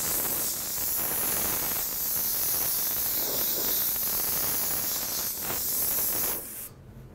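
An airbrush sprays paint over a flame stencil in a steady, close, breathy hiss that holds for several seconds, then cuts off abruptly near the end.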